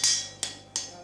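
At a forge, a hammer strikes an anvil three times with sharp, bright metallic rings. Each clang decays slowly before the next blow, in a steady, deliberate rhythm, close and clear with no voices.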